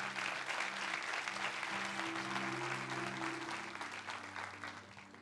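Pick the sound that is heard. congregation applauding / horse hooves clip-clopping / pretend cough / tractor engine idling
congregation applauding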